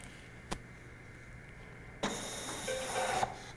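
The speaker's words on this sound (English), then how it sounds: "The machine's going to bring the ballot back out." Ballot-counting machine feeding a blank paper ballot back out: a soft click, then about a second of steady mechanical whirring and rubbing as the sheet is returned, with a few faint beeps near the end.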